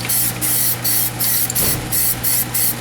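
PlastiDip rubber coating is sprayed onto car rims from an aerosol can in repeated short hissing bursts of about a third of a second each, close and steady, with brief gaps between passes.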